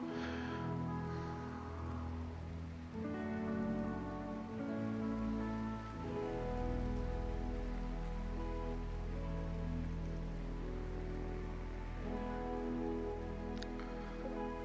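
Steady rain from the video game RimWorld hisses softly beneath a sustained droning music score, with no voices.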